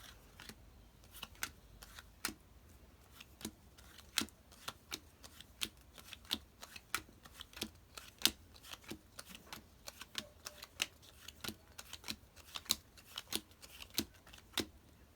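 A deck of playing cards is dealt into three piles, each card landing with a crisp snap, and the dealing runs in a steady, fairly quick rhythm for about fifteen seconds at close range.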